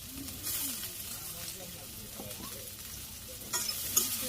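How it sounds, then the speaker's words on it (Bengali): Onions frying in a pan with a little salt in a Bangladeshi village kitchen, a steady soft sizzle with light stirring scrapes, close and low-level, with faint background murmurs. "এই যে এখানে পেঁয়াজ ভাজি হইতে থাক"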